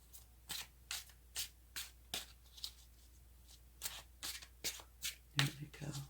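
Tarot cards being shuffled in a series of short, crisp riffles and taps, close and fairly quiet, with brief pauses between bursts and a faint low hum beneath.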